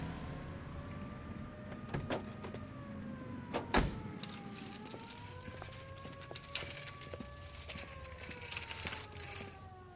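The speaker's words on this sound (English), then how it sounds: "I feel more comfortable with the siren on" A police car siren in the video game L.A. Noire wails in slow rising and falling sweeps over a low engine-like rumble, steady and moderately loud, with a few sharp thumps partway through.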